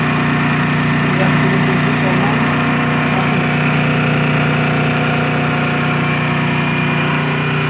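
A small DC motor spins under load at about 1797 RPM, producing a steady, loud mechanical whine and hum with a constant tone and no breaks.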